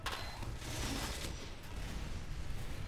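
A Team Fortress 2 sentry gun fires in a dense, continuous rattle of rapid shots with mechanical clatter, fairly close and sustained throughout, no talking.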